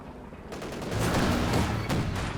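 Incendiary artillery and gunfire in the real-time strategy game Company of Heroes 2: dense, continuous volleys of shots and blasts that build and stay loud throughout, with no talking.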